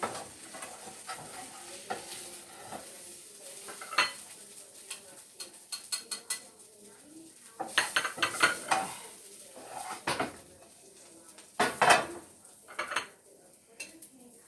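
Fried mushrooms and vegetables being scooped out of a pan, with metal utensils scraping and clinking against cookware over a soft sizzle, in scattered bursts and sharper clanks near the middle and end.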